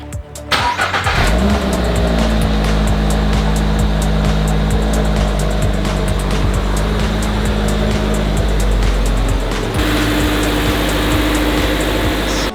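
A 2022 Subaru BRZ on its stock exhaust starts and idles close by, a steady, fairly subdued engine hum with a low rumble that carries on after the start, with a slight change in tone near the end.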